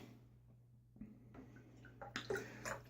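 Water splashed by hand onto a face before a wet shave with a Gillette flat-bottom safety razor, heard as a few soft, close splashes and drips over a steady low hum, growing busier toward the end.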